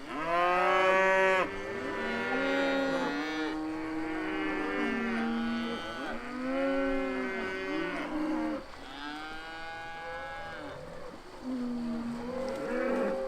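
Cattle moo repeatedly and loudly near a creek on a farm, several long overlapping bellows one after another with no talking.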